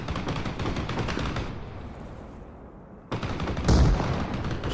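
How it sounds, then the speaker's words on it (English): Grenade blast in the military shooter Arma Reforger, a sudden loud burst about three seconds in after quieter ambient gunfire, followed by a lingering boom. "Maybe I should nade him just for fun."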